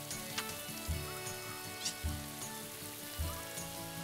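Rain patters steadily in Story of Seasons Pioneers of Olive Town, a soft continuous hiss with faint tonal game music and a few low thumps underneath.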